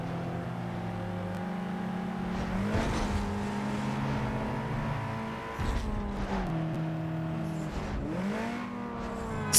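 Car engine revving hard while driving, loud and steady with harmonic engine tones that rise and fall through gear changes, with a couple of sharper surges midway, heard alone without talk.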